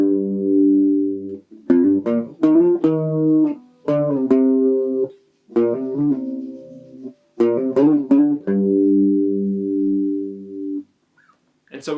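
An electric guitar plays the lead riff of a song, in sustained distorted notes and quick bent phrases with short gaps between, clear and alone with no talk.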